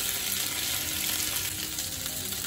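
Chicken shashlik kebabs fry in a pan, giving off a dense, continuous close sizzle with light stirring and no talk.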